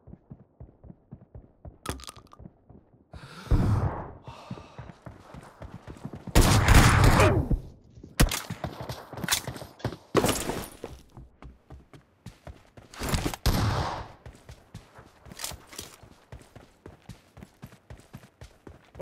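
Shotgun fire in the mobile battle royale game BGMI: several loud, sharp blasts come in bursts, with a dense cluster around the middle and single shots scattered through a steady patter of in-game footsteps.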